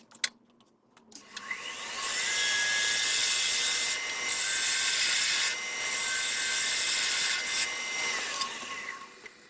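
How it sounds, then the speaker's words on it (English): A parting tool cuts into wood spinning on a lathe while a sphere is being turned, giving a loud, steady hissing scrape with a faint tonal whine that eases briefly a few times and then fades out. Nobody speaks. "we're going to use a parting tool to take that wood"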